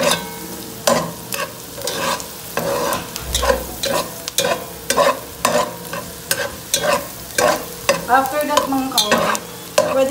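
Garlic frying in an indoor pan for sisig with hotdog, a close sizzle broken by a quick rhythm of repeated stirring scrapes and clacks, loud and steady with no talking.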